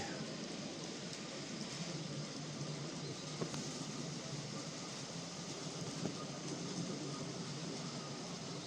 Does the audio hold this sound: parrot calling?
no